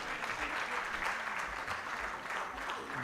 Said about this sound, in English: a very big hand clap for our Honorable Minister for Health